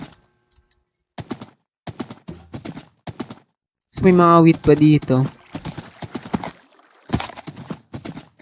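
Horse hooves clip-clop in Minecraft as short rhythmic bursts of blocky game footsteps, separated by pauses, with a player talking over them in the middle.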